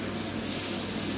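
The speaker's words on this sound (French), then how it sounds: "Là on entend mon beurre chanter." Butter sizzling in a pan before onions go in, a brief, dense and even hiss heard close up with no talk over it.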